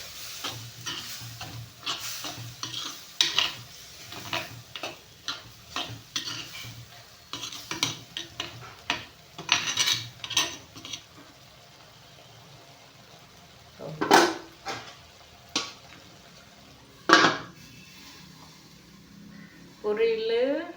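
Vegetable poriyal with coconut is stirred and fried in a pan, with repeated scraping and clinking of the spoon against the metal over a soft sizzle, close by. Later the sounds come in a few sharp, isolated knocks.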